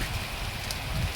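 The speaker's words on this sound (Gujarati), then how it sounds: "ખૂબ ભારે વરસાદ ચાલુ છે." Heavy rain pours down steadily, a dense close wash of drops with no voices over it.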